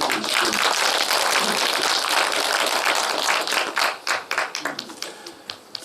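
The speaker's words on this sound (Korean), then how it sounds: "여러분 그분을 위해서 박수 한번 쳐주십시오." Audience applause at a book launch event, a dense crowd clapping loudly and steadily that thins out into scattered individual claps before fading.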